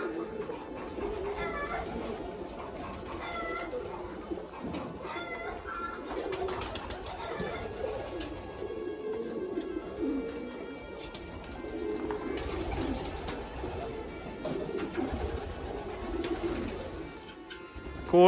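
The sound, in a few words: pigeons cooing at desert farm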